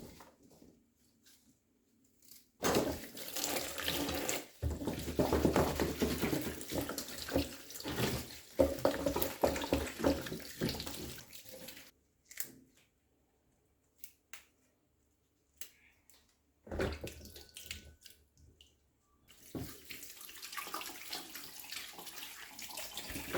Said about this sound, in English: Pour water to cover it and leave it here for some time